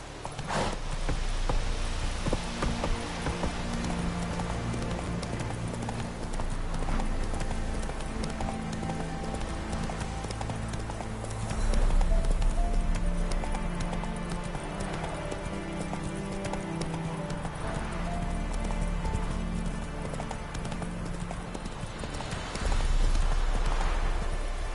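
Horse hooves clip-clop at a steady galloping rhythm in The Witcher game, loud and continuous beneath dense orchestral music with an occasional whinny.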